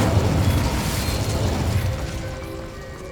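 An Incendio fire spell blast in the game Hogwarts Legacy, a loud burst that starts at once, then a roaring, crackling rush that slowly fades.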